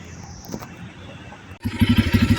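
A Bajaj Pulsar N250 motorcycle exhaust rumbles at a low level, then cuts abruptly to a loud, close, throbbing engine note with rapid rhythmic pulses.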